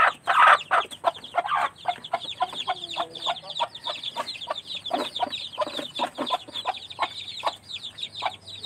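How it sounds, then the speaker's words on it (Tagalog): Chickens and their chicks cluck and peep in quick irregular bursts, with a steady chorus of high chirps throughout and a few louder hen calls standing out nearby, with no talk. "May mga sisiw, anak ng kanilang manok."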